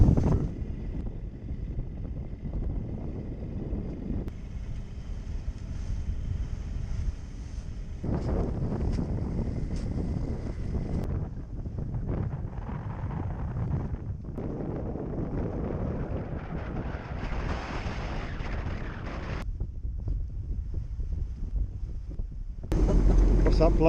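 Strong wind buffets the microphone aboard a sailboat in the Solent, gusting in the 30-knot range, with a constant low roar and rumble throughout and voices talking over it now and then.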